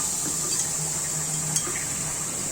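Crushed onion and garlic sizzle steadily in a hot pan for okra and rui fish cooking, a constant hissing fry with a faint utensil clink midway.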